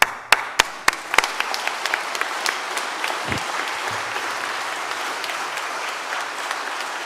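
Applause at an Eagle Scout ceremony starts with a few sharp, separate claps and quickly swells into steady, moderately loud clapping from a gathered audience that continues to the end.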